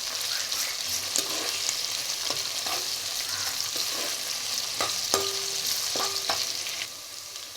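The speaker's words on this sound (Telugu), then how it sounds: "ఎండ్రాయిల్ వేసుకొని ఇది కూడా నూనెలో వేగనిద్దామండి." Dried shrimp and onions fry in oil for a cauliflower curry, a soft continuous sizzle punctuated by occasional knocks and scrapes of a spoon against the pan.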